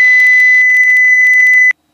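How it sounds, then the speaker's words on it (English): A loud, high electronic alert beeps rapidly in the cockpit of a Cessna 172 during a training flight. It starts as a steady tone, then pulses in quick repeated bursts and cuts off abruptly. "It's going to be a loud beep."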